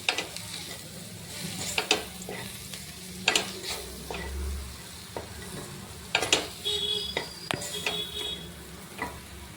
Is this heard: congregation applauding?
no